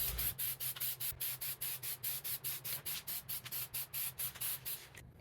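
Plasti Dip being sprayed as a light tack coat onto Porsche body kit parts, a rapid series of short, even aerosol hisses in steady rhythm, close and crisp, then stopping.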